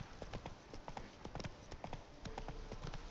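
Hooves of the horse Roach clip-clopping steadily in The Witcher 3 game, a rhythmic trot of crisp repeated hoof hits, fairly faint and close, with no talk.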